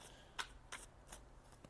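Tarot cards are shuffled in quiet, soft riffling bursts about three times in a row, close and faint, with brief gaps between each flick of the deck.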